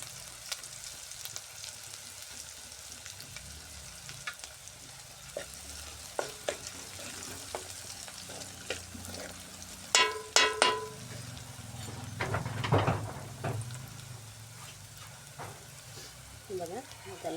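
Garlic sizzles in hot oil with cumin seeds, a soft steady frying crackle with scattered sharp pops and a few stirring clatters from a utensil against the pan. Someone speaks quietly now and then.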